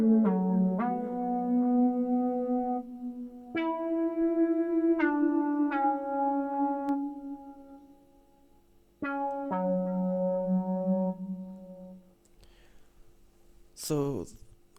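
A synth pad patch from the Expand instrument plays the top lines of chords: sustained, harmonically rich tones with slow swells and a few chord changes, fairly loud and alone, with a brief higher sweep at the end.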